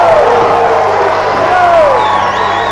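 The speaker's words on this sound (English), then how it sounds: "The Scottish crowd like that" A Scottish crowd cheers a kick at a 2003 karate match, a loud, continuous roar of voices with a commentator talking over it.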